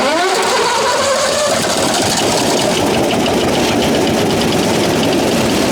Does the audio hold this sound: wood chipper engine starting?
yes